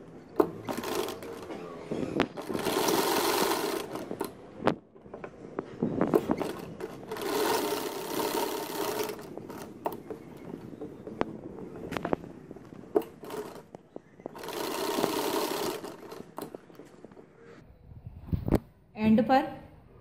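A sewing machine stitches fabric for a Sindhi poncha (trouser hem) design, running in several loud whirring bursts separated by short pauses, with talking in between.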